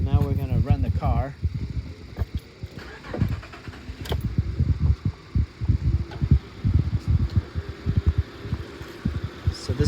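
An Acura MDX engine with a random misfire starts and runs near the microphone, cranking and catching into an uneven, throbbing idle with irregular low thumps, while people talk over it.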